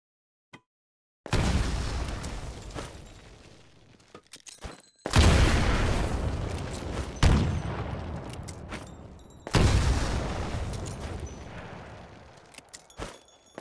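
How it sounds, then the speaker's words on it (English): Three grenade explosions in a Titanfall training course burst loudly one after another, several seconds apart, each a heavy boom that decays into rumbling debris and scattered clatter. "Throw a grenade into each of the windows."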